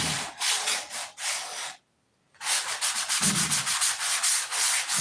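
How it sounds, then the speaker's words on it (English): Sandpaper is rubbed by hand across a filled surface in rapid, loud, close back-and-forth strokes, stopping for about half a second before resuming in a steady rasping rhythm. "That's 3 sandings on that piece of sandpaper, at least"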